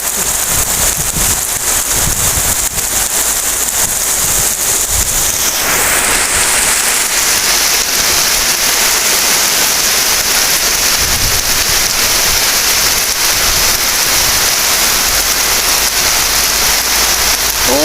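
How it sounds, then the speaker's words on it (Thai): Heavy rain pours down during a strong storm over farm fields, a loud, dense, unbroken hiss of drops hitting surfaces close by for the whole stretch, with no voices. "โอ้ฝนตกมาเย็นเย็นเย็นชุ่มช่ำพี่น้องบรรยากาศดีแห้งจ้า"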